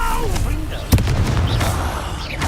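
A Confringo blasting spell goes off in Hogwarts Legacy, one sharp booming burst partway through amid a fight, with game voices and background score around it.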